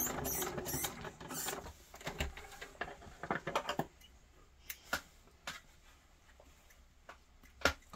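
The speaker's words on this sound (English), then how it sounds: "Stitching." Fabric is stitched while making 18th-century fall front trousers, with close, soft scratchy rustles and ticking clicks in irregular bursts, busier at first and then sparser, with no talking.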